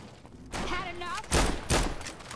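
Gunfire in the video game Fallout New Vegas: a few sharp shots ring out close together, with a short voice sound heard beside them.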